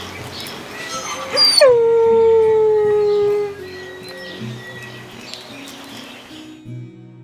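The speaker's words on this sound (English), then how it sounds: "Listen to the howl." At a Florida safari attraction, a wolf lets out a single loud, drawn-out howl that slides downward in pitch and then stops, followed by quieter background sounds and faint bird calls.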